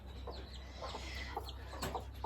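A six-month-old hen with newly hatched chicks gives soft, scattered clucks over quiet background hiss. The sound is close but faint, with a few short calls and no talking.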